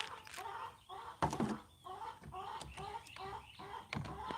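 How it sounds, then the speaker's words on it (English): A hen walking on a porch clucks in short repeated bursts, fairly close, with soft background noise around her. "She's just walking around on the porch clucking right now."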